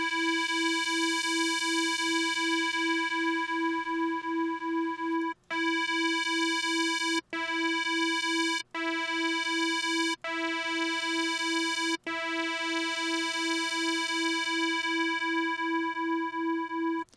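A sustained synth pad made in Native Instruments Massive holds one steady pitch while wavetable-position modulation shifts and brightens its upper harmonics, cut by several brief dropouts.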